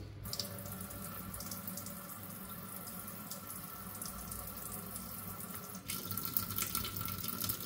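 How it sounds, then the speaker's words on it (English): A kitchen faucet runs steadily into a sink in an apartment in Conakry, a soft continuous hiss of water that grows a little louder and splashier near the end. "Let's check that water."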